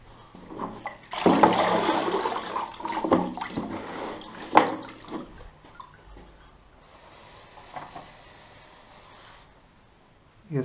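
Water splashing and running as grout-covered porcelain stoneware tiles are washed, a broad loud wash of spray early on, then sporadic splashes and scrubbing fading to a quieter trickle.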